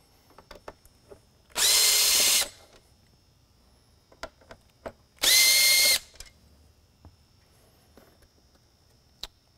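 Two short, loud whirs of a power driver remove the screws holding the top of a Code 3 Frontier Mini light bar, each burst about a second long, with light clicks and handling noises around them.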